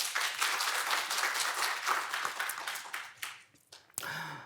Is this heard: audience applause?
yes